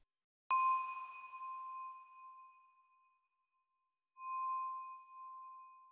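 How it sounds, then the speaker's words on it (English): A wine glass is flicked to play a melody, giving two clear ringing tones with long reverberant decays, each struck sharply and fading slowly into silence. "Then we can add a melody by flicking the glass and remove the start of the sound."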